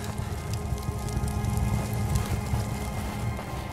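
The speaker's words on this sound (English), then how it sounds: "Hail's too strong. I can't get through." Hail pelting down in the video game The Fidelio Incident, a dense, steady clatter of countless impacts with a low rumbling underlayer, continuous and fairly loud throughout.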